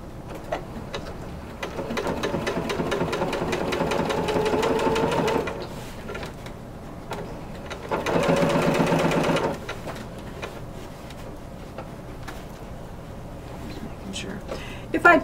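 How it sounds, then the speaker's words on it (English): A sewing machine stitches along the edge of a corset bone casing in two steady runs of rapid whirring, separated by a pause, close up. "taking it back to the machine, and I'm stitching along the edge."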